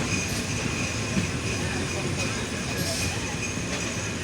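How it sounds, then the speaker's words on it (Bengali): The Down Nilsagar Express runs through Tongi railway station at dawn with a continuous, loud rumble and roar of rolling wagons. Faint wheel squeal and clatter ride on top, and a voice is faintly mixed in. "টাউন নীলসাগর এক্সপ্রেস ট্রেনটি আর অল্প কিছু সময়ের মধ্যে কমলাপুর রেলওয়ে স্টেশনে যাবে"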